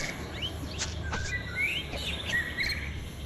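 A Yorkshire canary sings in short chirps and thin rising whistles, moderately close over a faint steady background hum.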